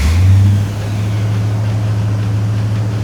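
A 1969 Ford Mustang Shelby GT350 convertible fires up with a brief loud burst, then settles into a steady, deep, rumbling cold high idle, close and alone.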